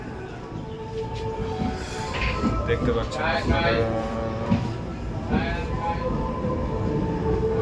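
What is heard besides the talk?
train leaving Amethi station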